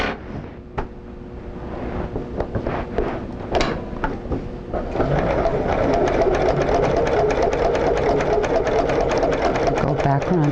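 A sewing machine stitches French knots into the center of a cherry rug, its rapid mechanical whirr starting partway through and running steadily and loudly to the end, with handling sounds and a voice talking before it.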